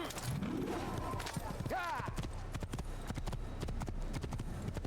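Rapid clip-clopping horse hoofbeats in the video game Assassin's Creed patter steadily over a constant background hum, with a few faint vocal sounds near the start.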